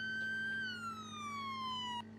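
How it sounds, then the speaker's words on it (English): A police patrol car siren wails at moderate level, one long descending sweep that cuts off abruptly near the end over a low engine hum. "We're just gonna cut the siren."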